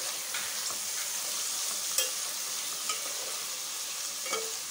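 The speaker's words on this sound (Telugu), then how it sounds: "మొత్తం మిక్స్ చేసి" Green chillies, curry leaves and mixed vegetables are stirred in a pan for vegetable biryani, giving a steady broad sizzle with a few soft spoon scrapes and taps spaced through, no talking.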